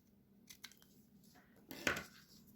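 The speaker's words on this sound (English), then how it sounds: "And then we'll trim off the excess." Scissors trim the excess paper off a handmade stamped card, a few quiet snips followed by one louder, longer cut near the end.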